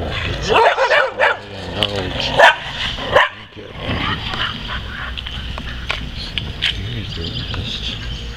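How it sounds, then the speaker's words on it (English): Dogs bark in a backyard, a series of close, loud barks and yips in the first few seconds, then fainter barking and whimpers continue. "See them damn dogs again."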